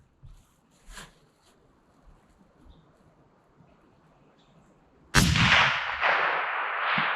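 A single loud, sharp blast from a 300 Win Mag sniper rifle cracks out after several seconds of near quiet outdoors, then trails off in a long fading echo.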